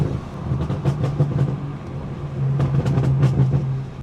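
A BMW with a B58 engine and an oversized downpipe rumbles with a loud, deep, steady exhaust drone. The rough pulsing texture swells slightly partway through.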